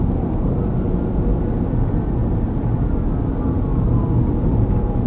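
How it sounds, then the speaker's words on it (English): Police aircraft flying overhead during a robbery suspect chase in Columbia County, Florida, giving a steady, continuous engine drone with no breaks. "planes coming your way."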